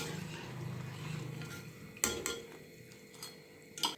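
A large slotted metal ladle lifts fried rice-flour chegodilu out of hot oil, with faint bubbling at first, then a sharp metallic clank and a few lighter clinks against the pan, quiet and close.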